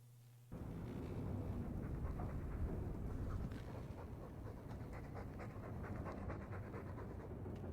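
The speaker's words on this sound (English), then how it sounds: "All that noisy dog breath, day in, day out." A dog in the video game Dragon Age II pants loudly and steadily, with rapid continuous breathy huffs close up that run unbroken for several seconds after a brief quiet start.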